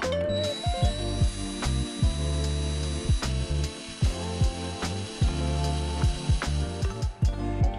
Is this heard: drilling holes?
yes